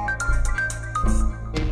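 A short, faint electronic phone ringtone plays for an incoming call in a Pakistani TV drama, a quick melodic pattern of bright beeps lasting under two seconds with a low hum beneath.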